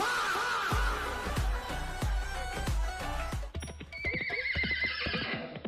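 A mule neighs in a comedy skit with a long, loud whinny, then a second, shorter call. Steady clip-clop hoof beats run underneath, close and prominent.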